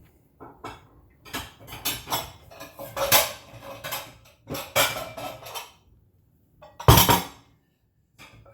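A ceramic bowl is lifted out and handled in a kitchen, giving a run of clinks and knocks against dishes and cutlery, with a sharp louder clatter near the end, close and without talk.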